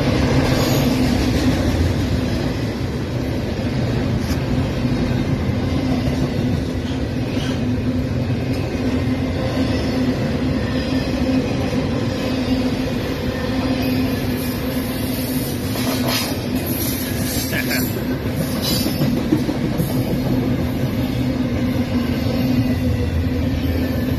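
A freight train rolls past at Fullerton, a loud, continuous rumble and rattle of wagons that holds steady close by for the whole stretch with no voices.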